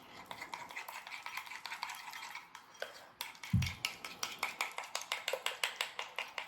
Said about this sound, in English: So now I'm just going to take my spatula here and just stir everything up.